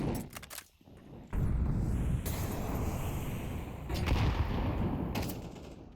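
Counter-Strike: Global Offensive match on the Mirage map: a sharp gunshot burst opens, followed by dense, sustained rumbling gunfire and game noise at steady loudness, with a second louder burst of shots near the end.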